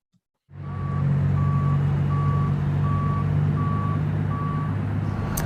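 A dump truck at a tornado cleanup site gives steady reversing beeps in an even rhythm, about seven in a row, over a loud, constant diesel engine rumble.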